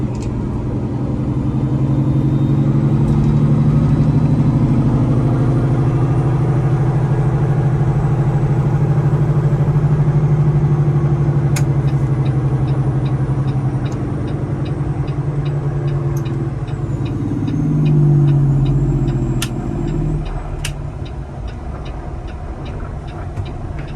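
A stretched Peterbilt 389 truck drives along with a loud, steady low engine rumble that swells and shifts as it moves, with a faint ticking in the background and no talk.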